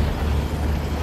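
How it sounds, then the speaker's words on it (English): A heavy engine runs with a dense, steady low rumble and broadband roar, loud and close, holding constant throughout the short moment. "That's definitely the engine."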